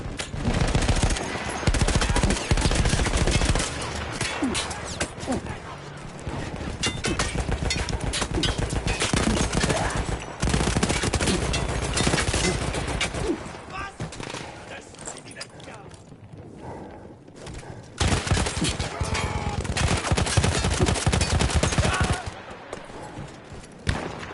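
Sustained bursts from a mounted machine gun in the video game Battlefield 1 rattle loud and dense almost without pause, dipping briefly between volleys, while a voice talks over the gunfire.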